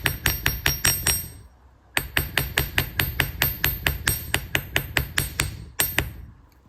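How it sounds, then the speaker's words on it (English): Metal wire for wire-wrapped briolette earrings is hammered flat: sharp ringing taps fall in a quick, even rhythm, a burst of about six, a pause, then a longer run and a last few strikes, close and loud, with no voices. "Hammering and trying for the texture is a finesse thing."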